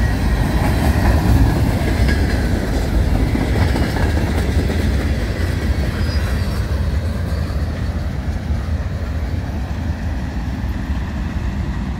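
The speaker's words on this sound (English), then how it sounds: "This was a 2x0 southbound manifest on the CN Champagne sub." A southbound Union Pacific manifest freight train rolls past on the CN Champagne subdivision, a loud, steady rumble of wagons and wheels clattering over the rails throughout, with no break in the noise.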